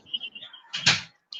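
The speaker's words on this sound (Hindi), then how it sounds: "भाई बंद करो दरवाजा।" A door is shut, a single thud with a short rattle in the middle, close by, between faint voices.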